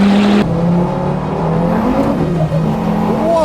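A KTM X-Bow GT XR race car drives fast on a track, its engine a steady loud drone with shifting pitch and a brief change in tone early on, continuous throughout with no talk.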